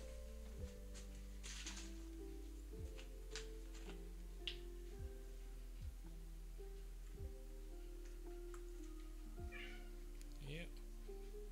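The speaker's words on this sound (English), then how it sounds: "Are you hungry there, kitty kitty?" A cat meows repeatedly in a home kitchen during preparation of strawberry preserves and Irish soda bread, several mid-pitched meows spread across the clip over a steady appliance hum, with faint clinks and someone talking nearby.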